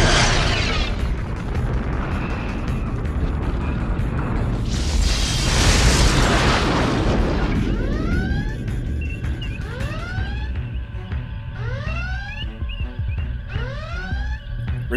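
Starship weapons fire in a space battle: heavy booming blasts and rumbling explosions fill the first half, then a series of repeated sweeping, descending energy-weapon zaps ring out over a dense sci-fi soundscape.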